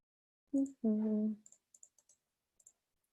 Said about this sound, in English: I'm trying to type it into the chat